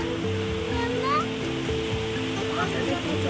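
A light flow of water comes through the closed Teesta barrage, making a continuous, loud, broadband rushing wash with a voice heard over it.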